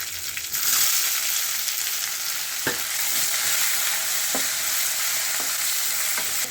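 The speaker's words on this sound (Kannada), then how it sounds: "ಕ್ಯಾಪ್ಸಿಕಮ್ ಹಾಕ್ಕೊತಾ ಇದ್ದೀನಿ." Capsicum fries and sizzles in a pan for a methi leaves and capsicum rice dish, a steady hiss broken by a few sharp scrapes of stirring, close and fairly loud with no talking.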